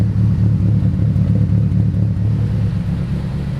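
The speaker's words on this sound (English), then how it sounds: "You guys might be able to actually hear it loping out now." A tuned Mitsubishi Evo 9 4G63 engine idles with a low, uneven, loping, throbbing rumble, steady and close, with no voices.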